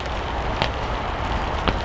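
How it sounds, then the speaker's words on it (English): Rain falls steadily during a May bream-fishing session at Farlows Lakes, a dense, even hiss with a couple of louder nearby drips or taps and no voices. "Hopefully this rain's going to stop about 2 o'clock."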